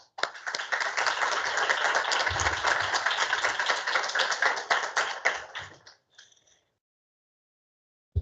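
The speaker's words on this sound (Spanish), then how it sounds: "La recibimos con un aplauso." Audience at a Kichwa poetry literature event in Ecuador claps to welcome a speaker, a close, lively round of applause that thins out and fades to silence after about six seconds.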